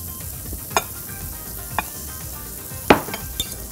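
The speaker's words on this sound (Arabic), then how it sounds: "عايزين نقلب بس الجمبري عشان ابتدى خلاص من الجنبين يستوي" Shrimp sizzling in a hot pan as they are flipped, a steady frying hiss broken by a few sharp scraping clinks of the utensil against the pan, close and without talk.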